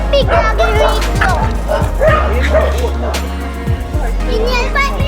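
Puppy named Rico yapping and barking in short bursts at a child's first birthday gathering, loud and close over busy chatter and children's voices.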